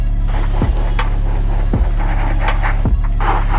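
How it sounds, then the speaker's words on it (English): An airbrush sprays black paint onto Nike Air Max golf shoes, giving a loud, steady, close hiss that runs without a break, with a low hum underneath and a few faint clicks. "we're gonna spray the black through the airbrush."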